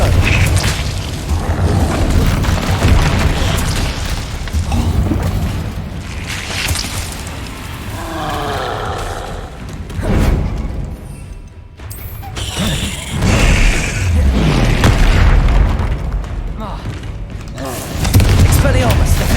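Confringo fire spell explosions during combat in the Hogwarts Legacy video game, a dense run of loud booms and blasts with rumbling debris and whooshing effects throughout.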